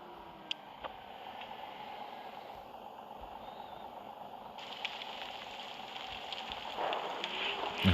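Steady rain in the video game Bus Simulator Ultimate hisses evenly throughout, a soft constant patter that grows a little louder toward the end, with no voices.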